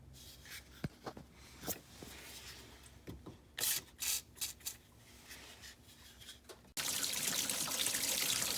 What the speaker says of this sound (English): As you can see, as soon as you take that out of there, all of the windshield wiper fluid will leak out.